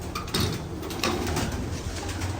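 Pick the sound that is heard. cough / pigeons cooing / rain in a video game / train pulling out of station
pigeons cooing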